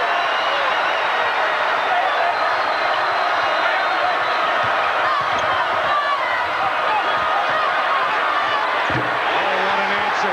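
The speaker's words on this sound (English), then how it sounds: "And this Duke crowd is on its feet." A Duke basketball crowd on its feet during a 1997 NCAA Tournament second-round game against Providence, a dense, loud and sustained roar of cheering with no letup.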